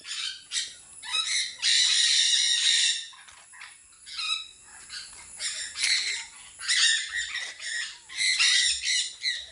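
Birds call at a resort, loud squawking and chattering bursts coming in repeated waves close by, with no talk over them.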